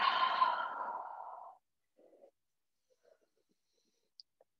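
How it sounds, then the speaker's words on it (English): One big deep breath, a long audible exhale close to the listener in a quiet room during a hip-mobility yoga session, followed by near silence with a few faint small noises. "Big deep breath."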